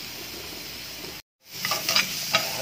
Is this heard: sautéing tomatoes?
yes